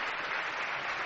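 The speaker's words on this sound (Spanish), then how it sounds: "Este aplauso es para ti, Santi" A live audience applauds Santiago Vázquez in a radio studio, a steady wash of many hands clapping for about a second with no voices over it.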